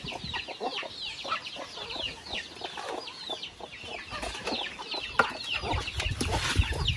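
Chickens on a rural smallholding cluck and chatter continuously at close range, with a few louder squawks and occasional knocks in the background.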